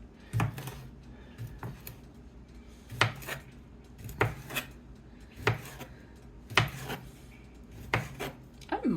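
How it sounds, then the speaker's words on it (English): Knife cutting pre-cooked sausages on a board, about eight sharp, evenly spaced chops that fall every second or so, close and clear with no talking. "but cut this one up"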